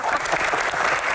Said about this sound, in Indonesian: tepuk tangan dong Bang Hensha.